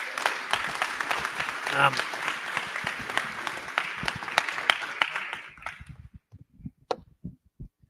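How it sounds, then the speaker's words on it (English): Conference audience applause at a Toronto tech event, dense steady clapping for about five seconds that thins out into a few scattered claps and ends. "Can we get a round of applause?"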